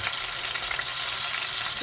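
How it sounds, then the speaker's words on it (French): Beef braising cut searing in a pan over medium-high heat, giving a steady, loud hiss and crackle of frying fat, continuous and close without any talk. "C'est ce bruit-là que ça prend lorsqu'on veut avoir une bonne réaction de Maillard."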